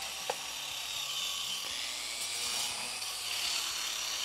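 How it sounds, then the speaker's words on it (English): A saw cuts through a laminated wooden boat frame in a steady, close rasping stroke that carries on evenly with little pause. "cut this frame off on a vertical line that I've drawn on it"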